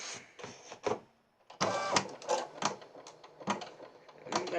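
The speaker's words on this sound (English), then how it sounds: "I'm gonna stitch out the placement line." An embroidery machine stitches a placement line for an in-the-hoop Christmas ornament, giving short, quick mechanical stitching bursts with brief pauses between them, fairly close and quiet, with no talking.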